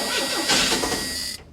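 Engine of a 1984 Chevy Camaro cranking, a close, loud mechanical whirring that swells briefly and then stops abruptly.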